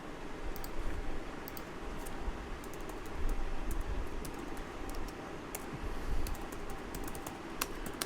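Typing on a computer keyboard into Notepad while setting up a vulnerable OWASP BWA virtual machine: quick, light key clicks in short bursts, close and fairly quiet over a soft steady background hiss.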